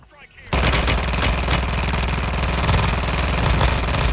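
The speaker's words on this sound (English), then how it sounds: "Those akimbo pistols look like bullshit." Akimbo pistols in a video game firing rapidly, a dense continuous burst of loud shots starting abruptly after a brief quieter moment and running to the end.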